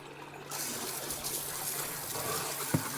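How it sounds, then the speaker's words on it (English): Water gushing from a hose pipe to flush a koi pond filter, a steady broadband splashing rush that starts abruptly and continues close up, with a brief knock near the end. "Get this hose pipe now and give it a good flushing round in there"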